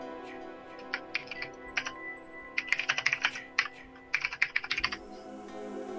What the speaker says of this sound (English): After we quick clack our keyboards.